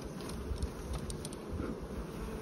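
Honeybees buzzing around an open beehive frame during a hive inspection, a steady dense hum that fills the whole clip without pause and is fairly faint overall.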